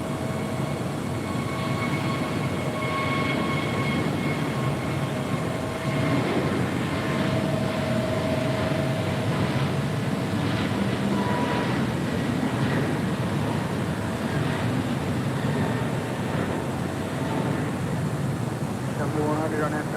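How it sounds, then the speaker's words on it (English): A Japan Airlines Boeing 777-300ER arriving from Tokyo Haneda and landing on runway 24 left at LAX, heard as a steady, broad, unbroken roar throughout, with voices talking over it. "Japan Airlines Flight 16 coming in from Tokyo Haneda in a 777-300ER, just about 30 seconds away from touching down on runway 24 left"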